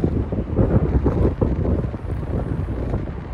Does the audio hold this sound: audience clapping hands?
no